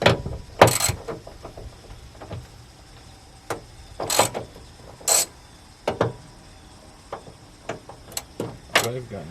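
Intermittent metallic clanks and clicks from a ratchet and socket working bolts on a 30-year-old Ford F-150 shop truck with a 300ci six-cylinder, close by, with short sharp bursts spaced across quieter gaps.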